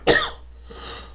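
A single harsh, close cough from a man, one sharp burst followed by a softer trailing exhale, alone with no speech.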